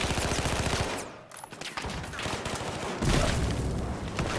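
Rapid bursts of AK rifle fire in Battlefield 4, a loud close fusillade of repeated shots with a brief lull before the firing resumes.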